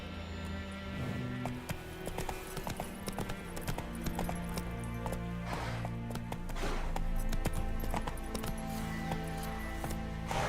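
Steady clip-clop of a horse's hooves galloping in The Witcher 3, a continuous rhythmic trot under layered game music and ambient sound.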